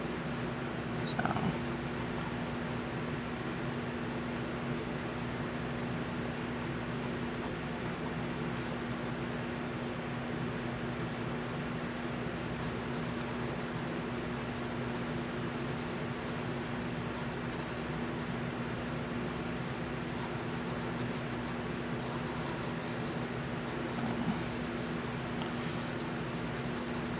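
Pencil coloring on paper in a coloring book, a soft continuous scratchy rasp close up, steady and quiet over a faint background hum.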